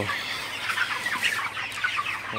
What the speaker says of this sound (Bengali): ব্রয়লার মুরগিকে সকালে পানি দিলাম। তো পানি দেওয়ার পর মুরগিগুলো পানি খেতেছে।